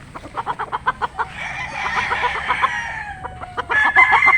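An 18-month-old Possum-bloodline gamecock rooster crows loudly and close by, a long drawn-out call with clucking and rhythmic pulses before it.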